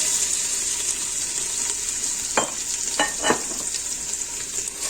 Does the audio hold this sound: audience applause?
no